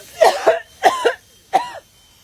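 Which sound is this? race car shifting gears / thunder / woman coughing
woman coughing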